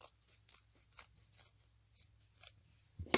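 Scissors cutting through paper-backed material for handmade millinery flower embellishments: about seven soft, rhythmic snips, faint and close, ending in a sharper clack.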